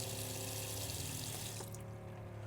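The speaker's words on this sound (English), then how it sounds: "stainless steel sink, little foldable faucet, all plumbed in" Water streams steadily from a small foldable faucet into a stainless steel sink in the galley of a 2009 Mercedes Sprinter camper, a continuous close hiss that eases slightly near the end.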